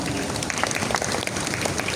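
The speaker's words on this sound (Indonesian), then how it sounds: "Boleh tepuk tangannya." An audience at a religious gathering with a Quran reciter breaks into dense, steady applause that holds at an even level throughout, a crowd of hands clapping together with no voices above it.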